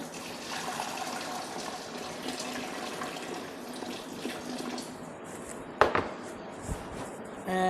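About 400 ml of water is poured into a sourdough starter for restaurant-style bread dough, a steady soft splashing stream lasting several seconds, followed by a sharp clink and a brief clatter near the end.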